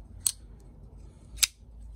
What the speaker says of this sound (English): Very nice sound there too, the engagement.